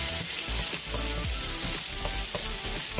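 Garlic frying in a pan for vegan shrimp and grits, a steady close sizzle with faint scraping and stirring clicks throughout, no voices.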